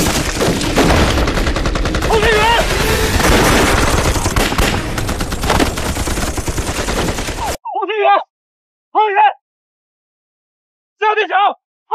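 Gunfire and cannon blasts from a Chinese anti-Japanese war film raid on a Japanese factory, dense, loud volleys for about seven seconds, then silence broken by a few short spoken lines.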